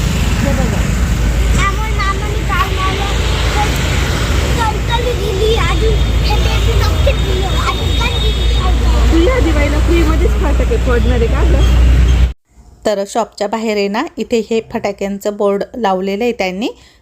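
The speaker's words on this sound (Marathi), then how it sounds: "रस्त्यावरती गाड्या ये जा करताय ना त्यामुळे बराच आवाज होत होता" Vehicles pass on the road outside a wholesale firecracker shop during Diwali shopping, making a dense, constant roadside rumble under a child and other people talking. It cuts off abruptly near the end, leaving quieter speech.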